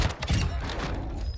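Gunfire in Warzone 2.0 on Ashika Island, a dense burst of sharp cracks and thumps in quick succession, loud and close, fading into muffled shots.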